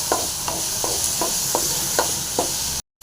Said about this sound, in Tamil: அதையும் போட்டு நல்லா ஃப்ரை ஆகும்.